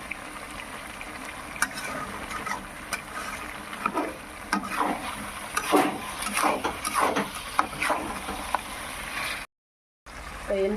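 Chicken masala fries and sizzles steadily in a pan, with intermittent scraping and stirring clatter from a spoon, close and fairly loud, no talking over it.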